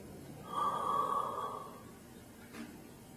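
A storyteller imitates the slow breathing of a dying cancer patient with one long, drawn-out breath, loud and close, that fades into quiet, followed by a short faint puff.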